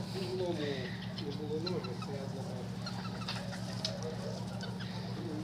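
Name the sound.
bantam roosters fighting and clucking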